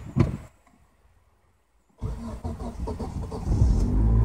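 A car in winter snow in Kiev starting up: a brief crank, a near-silent pause, then the engine catches and settles into a steady idle that grows louder and rougher, close by without talk.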